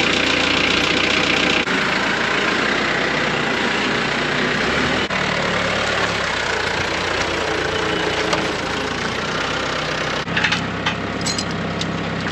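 A farm tractor idles steadily near a cattle squeeze chute, a continuous low mechanical chug with faint knocks and clanks over it and no talking.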